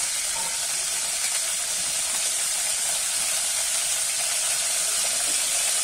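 Shrimp frying in hot oil gives a steady, dense sizzle and hiss that stays even and close for the whole stretch, with no voices.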